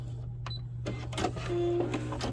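A sewing machine back stitching a soft padded figure skate guard, with short bursts of mechanical stitching and clicking under a steady low motor hum.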